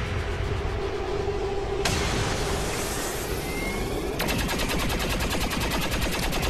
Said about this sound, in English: I love the sound of that disruptor rifle.